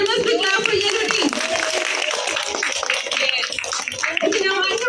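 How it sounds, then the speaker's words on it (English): Students in a school quiz clap for a team, a busy patter of many small hands mixed with children's voices and chatter throughout. "The answer is right, so there must be clap for yellow team"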